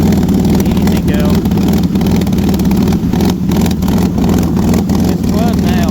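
A Ford Mustang's 3.0 engine idles roughly while flooding, with a loud, uneven rumble and irregular stumbles, and someone talks over it.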